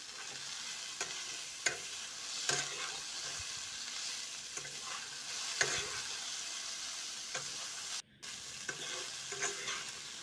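Boiled chow mein noodles stir-fried with green chili, a steady sizzle broken by sharp scraping strokes of the spatula every second or two, close and alone with no voices.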